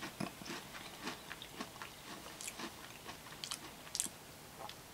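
Close, quiet chewing of a snack with sharp cheddar, bacon and cayenne: soft, irregular crunches and bites over low room noise, with no talking.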